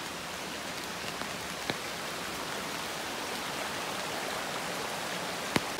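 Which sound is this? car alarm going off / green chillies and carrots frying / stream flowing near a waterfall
stream flowing near a waterfall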